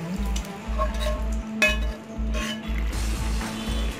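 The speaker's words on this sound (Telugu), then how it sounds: "ఆ చికెన్ పీసెస్ని మనం ఈ విధంగా ఇందులో మిక్స్ చేసేసుకోవాలండి" Fried chicken pieces are stirred into half-cooked rice in a pot for Andhra-style fried chicken biryani, giving steady sizzling with repeated scraping strokes and light clinks from a utensil, close up with no talking.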